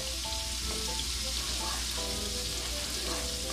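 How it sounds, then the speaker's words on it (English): Garlic sizzles in melting butter while a small spoon stirs it for a white wine sauce, a steady even crackle with faint scraping and a few thin tonal clinks. "I got a little spoon here to mix it. Make sure all that butter gets melted."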